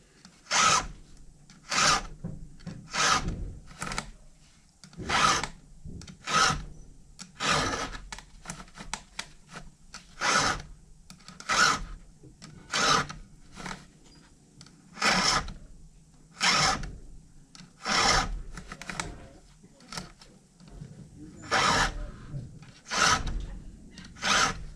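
A hand file sharpens a chainsaw chain in a steady rhythm of about twenty close, rasping strokes, each a short gritty scrape separated by brief pauses, with no talk.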